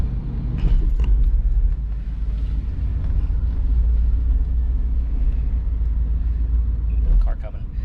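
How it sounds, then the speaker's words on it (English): A car approaches along a residential road, a steady low rumble that holds throughout, rising slightly toward the end, with faint clatter over the engine noise. "Car coming."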